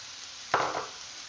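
Onions tipped into a hot pan for shepherd's pie, just after garlic, set off a sudden short sizzle burst that quickly settles into a softer hiss.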